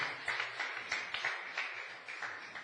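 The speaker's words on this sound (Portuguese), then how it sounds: "dê um aplauso para o Senhor agora em nome de Jesus" A church congregation claps during worship, a crowd of hands beating in rough pulses that swell and fade in waves, moderately loud and fairly close.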